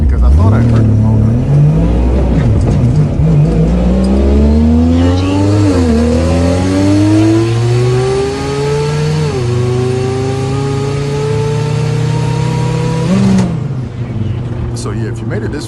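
A Mazda RX7 with a three-rotor billet engine and DCT gearbox, recorded from inside the car on a Darlington dragway run. It revs hard and continuously, with the pitch climbing and then dropping at each gear change.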